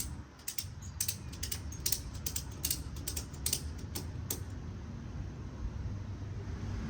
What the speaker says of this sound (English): and then I'll be able to ratchet strap it.